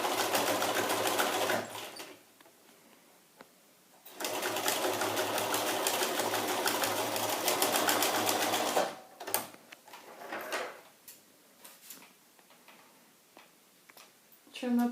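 A sewing machine back stitching a face mask: two long runs of rapid, close stitching, separated by a pause, then a few short bursts and softer handling sounds, with a voice speaking between runs.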